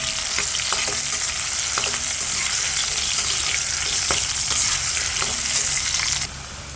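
Potatoes sizzle in hot mustard oil with a steady loud crackle, scattered sharp pops and occasional stirring clatter, easing slightly near the end; nobody speaks.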